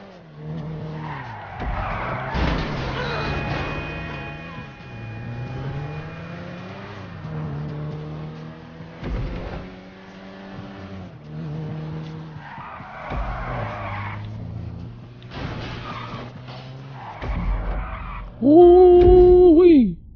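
Repeated tire squeals and skids from a fully custom car in GTA V, mixed with a revving engine, loud and close, with a sharp, bright squeal near the end and a voice talking at points.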